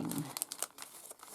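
Paper craft packs crinkle and rustle as they are handled, with a series of quick, close crackling bursts at a moderate, uneven pace.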